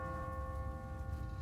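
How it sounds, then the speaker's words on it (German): A church bell rings in The Walking Dead video game, a sustained metallic tone with long ringing overtones that hangs steadily throughout over a dense low rumble. "What kind of church bell goes off at 20 past the hour?"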